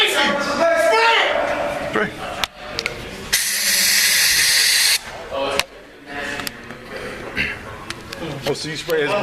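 Spray is deployed inside a jail: a loud sustained hiss bursts out for about a second and a half amid shouting and agitated voices, with clanks and commotion around it.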